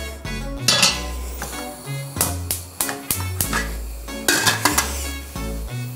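A big soup pot clanks onto a kitchen stove, with several sharp metallic knocks, clinks and scrapes of pots and utensils close by in an uneven rhythm.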